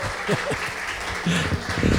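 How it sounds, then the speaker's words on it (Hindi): An audience at a shayari poetry recital applauding to welcome a poet, a brief burst of clapping mixed with a voice. "पहले तो ज़ोरदार ताली से स्वागत कीजिए भाई"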